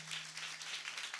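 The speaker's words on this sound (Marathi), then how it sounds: "मग वाजवा सगळ्यांसाठी एकदा टाळ्या." Audience at a Marathi kirtan clapping together in a steady, moderately loud burst of applause, with a low hum underneath and no speech.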